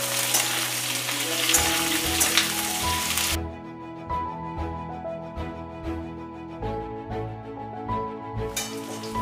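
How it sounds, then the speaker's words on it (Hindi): Capsicum and paneer fry together in a pan for chilli paneer: a loud, dense sizzle at first, then a quieter crackle with rhythmic spatula taps and stirring, and a burst of sizzle returning at the end. "और इसमें शिमला मिर्च भी हम डाल रहे हैं, साथ में ही दोनों फ्राई कर लेंगे"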